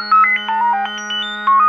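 An EMS Synthi synthesizer's second oscillator gives a clean electronic tone that jumps between stepped pitches over a steady low drone, a brief beeping sequence heard alone.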